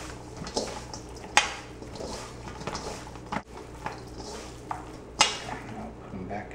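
Beef strips being tossed with cornstarch in a bowl, giving soft squishing and stirring noises with a few sharper clinks of utensil against the bowl, close by.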